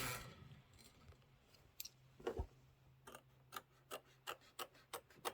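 Small scissors snip embroidery threads on a quilting project, making faint, close snips and rustles that become a quick run of regular clicks toward the end, with no voices.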